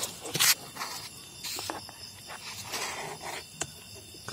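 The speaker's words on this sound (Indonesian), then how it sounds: "Nah, itu jangkriknya di dalam lubang." A cricket in its hole on a forest floor at night gives faint, intermittent chirps amid rustling and scattered clicks, close to the listener and fairly quiet overall.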